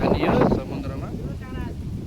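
Steady sea breeze rushing over the microphone at the seaside in Kuantan, Pahang, Malaysia, a broad continuous wind roar that is loudest at the start and then holds fairly level, with talk mixed in.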